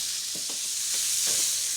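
Chicken and bacon fry in a pan with a bright, continuous sizzle, close and even, with a few soft stirring or shifting sounds breaking through.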